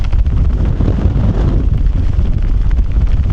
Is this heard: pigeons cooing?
no